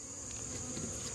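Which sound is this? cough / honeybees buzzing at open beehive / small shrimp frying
honeybees buzzing at open beehive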